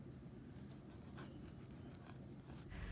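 Pencil sketching in a sketchbook gives faint, soft scratching strokes in short repeated bursts against a quiet background.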